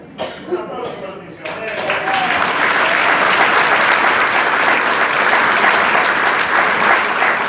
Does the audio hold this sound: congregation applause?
yes